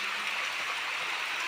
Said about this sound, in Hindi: आज हमारे गांव में बारिश हो रही है।